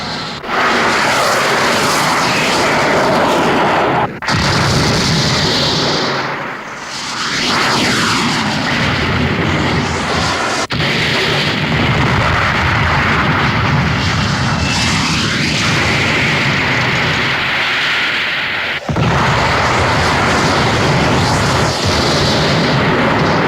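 Bomber aircraft formation flying over on an attack run, a loud continuous roar of propeller engines with swelling passes and pitch sweeps as planes go by, heavy and close, with no speech.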